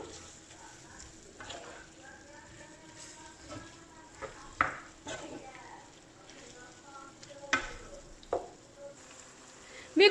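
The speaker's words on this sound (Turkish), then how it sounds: "Domateslerimde suyunu salıp tekrardan çekene kadar güzel bir şekilde kavurmaya devam ediyorum" Tomatoes sauté in a pan with a soft, continuous sizzle and scattered spoon scrapes and taps, while a voice talks over much of it.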